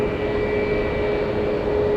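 An airplane flying over San Francisco International Airport: a steady, loud engine roar with a sustained tonal whine, constant for the whole moment and nearby.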